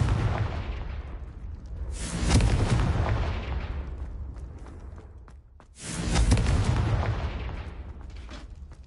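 The Confringo fire spell in Hogwarts Legacy explodes twice, each a loud booming blast with a crackling burst that rumbles and fades over a few seconds.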